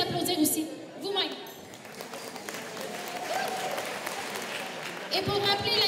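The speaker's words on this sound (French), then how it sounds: "Donc, vous pouvez vous applaudir aussi, vous-même." An audience applauds a speaker at a regional community event, steady clapping that swells and fades over several seconds with voices mixed in, and a speaker's voice returning near the end.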